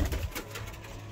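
Pigeons kept as a pair give low, throaty coos at close range. The coo is short, soft and rounded, with no voices over it.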